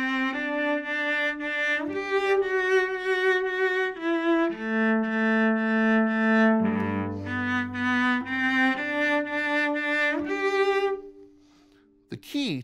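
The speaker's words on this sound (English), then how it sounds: "And then the melody sounds like this." A solo cello plays the melody of a Piatti two-cello work, a sequence of bowed phrases with some lower double-stopped notes, close and clear, ending with a brief knock.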